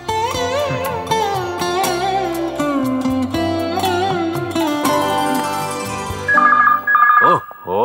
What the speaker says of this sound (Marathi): कोणी फोन उचलायला नाहीये.